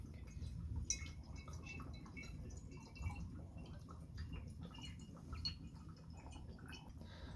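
Oxygen gas from a peroxide reaction bubbles into a filling bottle, a faint, continuous fizzing and dripping patter close by with no other sounds.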